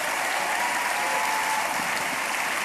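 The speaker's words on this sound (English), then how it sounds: "Let's get a round of applause for the Access Now team." Loud, dense applause from a large audience at an opening ceremony, many hands clapping continuously and evenly throughout.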